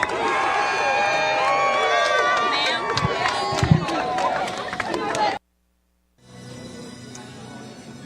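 A big outdoor crowd at a Trump rally in Prairie du Chien, Wisconsin cheers and chatters loudly, with a few sharp claps and shouts. The noise cuts out abruptly, and a quieter stretch of murmur follows after a brief silence.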